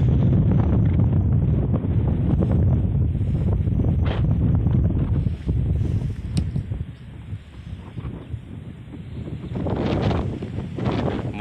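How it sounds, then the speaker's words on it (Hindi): Strong, cold wind blows hard against the microphone outdoors where farm animals and birds are kept, a loud, low, buffeting roar that eases briefly midway then gusts again, with no talking. "बहुत ही ज़बरदस्त ठंडी हवा चल रही है।"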